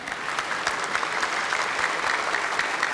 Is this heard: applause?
yes